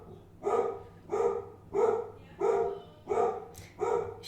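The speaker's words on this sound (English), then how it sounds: "oops, sorry, that's my doggo" A pet dog barks six times in a steady rhythm, each bark loud and close, with no talk over it.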